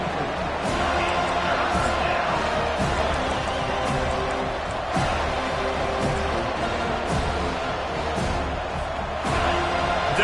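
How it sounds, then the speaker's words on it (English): A stadium crowd roars in a continuous, dense wash of noise during a College Football 25 game between Alabama and FSU, with scattered thuds and claps and an announcer's voice running over it. "Decibels rising as the crowd gets behind this defense on 3rd down."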